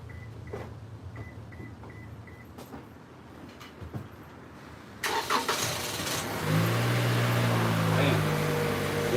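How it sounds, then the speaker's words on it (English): A Toyota Camry engine cranks briefly after a few clicks and quiet handling noises, then catches and settles into a steady idle, close by. "Cranked up on the first try with the battery."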